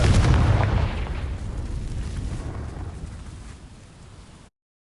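Confringo fire spell blast in the Hogwarts Legacy video game, a loud booming explosion at the start that rumbles and fades away over several seconds.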